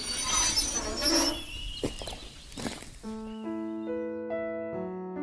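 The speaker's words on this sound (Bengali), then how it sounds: "ঠিক তখনই ঘন জঙ্গলের ভেতর সেই ছোট্ট প্ল্যাটফর্মটাতে একটা ট্রেন এসে থামল" A train rumbles in with screeching, squealing wheels, then settles to a halt at a small platform in dense forest as sustained tonal squeals ring out.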